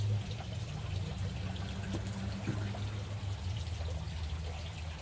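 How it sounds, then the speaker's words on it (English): Water running and trickling while pool water test tubes are rinsed out, a steady close pour that carries on evenly with no talk over it. "I'm just rinsing my tubes out."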